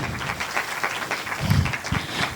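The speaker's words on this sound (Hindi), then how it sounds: "प्लीज़ ज़ोरदार तालियों से आप उन्हों का स्वागत कीजिए" Audience clapping at a Maha Shivratri celebration as a music group is welcomed to the stage, a steady dense patter of many hands that swells briefly midway, heard close and without speech.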